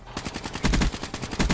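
Rapid automatic gunfire from the Weevil rifle in the video game Black Ops 3, a loud, steady run of closely spaced shots that swells in heavier bursts with no talking.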